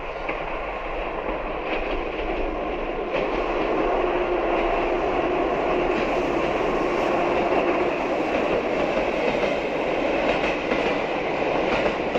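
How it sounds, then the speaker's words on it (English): A train rumbles through a tunnel, its loud, steady roar swelling slightly as it draws nearer, with a faint metallic clatter in the din. "the distant sound of an engine can be heard getting closer"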